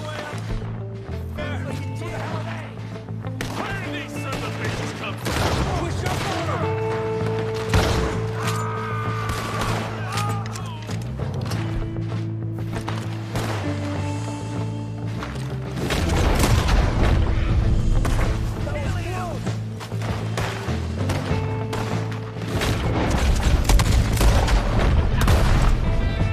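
Gunfire and booming explosions from a Red Dead Redemption 2 shootout, dense and loud throughout, with rapid shots layered over a droning musical score and heavier blasts near the end.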